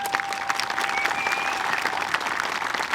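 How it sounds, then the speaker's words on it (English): Steady audience applause at a high school commencement ceremony, a dense even patter of many hands clapping continuously at moderate volume, with a faint whistle-like tone running through it. "Round of applause."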